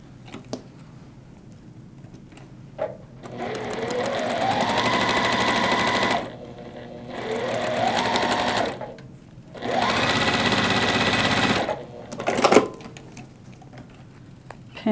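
A sewing machine stitches a quilt block for a wreath pattern in three sustained runs of motor whir, each a few seconds long and separated by short pauses, close and fairly loud, with light handling clicks between runs.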